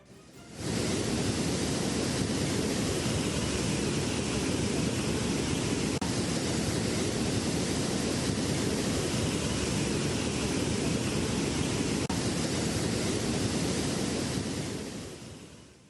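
Water pours over Palakkuzhi waterfall at Kizhakkanchery in Palakkad in a powerful, unbroken roar. The sound fades in, stays steady and full for the whole stretch, then tails off at the end.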